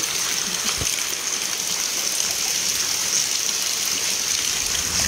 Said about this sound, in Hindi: यहाँ तो बहुत बारिश है।